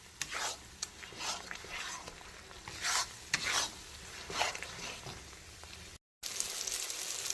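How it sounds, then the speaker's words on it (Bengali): A spice paste with cashew, poppy and melon seeds is stir-fried over low to medium heat, with repeated rasping scrapes of a spatula against the pan over a steady sizzle. "খুব সুন্দর করে কষিয়ে নেব, যাতে কাজু, পোস্ত আর চারমগজটাও খুব সুন্দর করে ভাজা ভাজা হয়ে যায়।"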